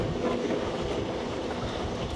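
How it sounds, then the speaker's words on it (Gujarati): A passenger train on a Vadodara to Ayodhya run rolls along steadily, heard from inside the carriage. There is a continuous low rumble with faint wheel clatter and no voices. "આગળ ટ્રેન રવાના થઈ ગઈ છે આપણી"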